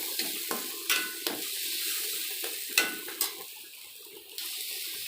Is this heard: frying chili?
yes